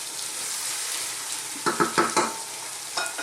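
Cooked canned black-eyed peas and vegetables for an Indian vegan curry fry in a pan with a steady close sizzle, broken by a few soft stirring scrapes partway through; no voices.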